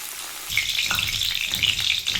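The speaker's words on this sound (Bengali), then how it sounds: "ওই তেলের মধ্যে আমি একটা লঙ্কা চিড়ে দিয়ে দিলাম" A slit green chili dropped into hot oil left from frying okra bursts into a sudden bright sizzle after a half-second of quiet, then crackles steadily and close with light spattering pops.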